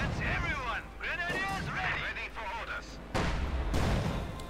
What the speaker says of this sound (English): Comes there taking hits from the mortar